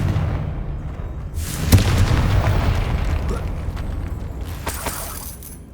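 A single loud fiery blast from a Confringo spell in Hogwarts Legacy bursts out suddenly and rumbles away for a few seconds, followed by a softer second burst near the end.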